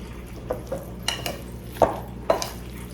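A spoon mixes meatloaf with oats in a bowl, giving several separate scraping, squelching strokes with short quiet gaps between them, close and fairly soft.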